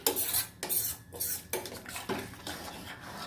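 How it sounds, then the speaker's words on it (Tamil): A metal lid clanks and scrapes onto a cooking pot of vegetables simmering in water, several close, sharp knocks and rattles, with no one talking. "இப்போ நம்ம இதை வந்து மூடி போட்டு நல்லா வேக வச்சிடலாம்."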